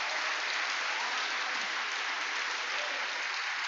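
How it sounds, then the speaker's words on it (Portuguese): A church congregation applauds together during a worship service, a steady, dense wash of many hands clapping that holds evenly at a moderate level for the whole stretch without talk. "Vamos aplaudir a intercessão dessa igreja."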